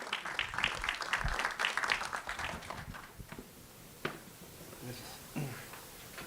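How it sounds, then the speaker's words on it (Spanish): Conference audience claps to welcome engineer Edgar Ramírez, a fairly close burst of applause that is busiest at the start and thins to scattered claps and small knocks, with voices murmuring near the end. "Recibamos con un fuerte aplauso al ingeniero Edgar Ramírez."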